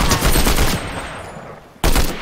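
Loud bursts of gunfire in a multiplayer shooter video game, a dense volley that drops away and then erupts again sharply near the end.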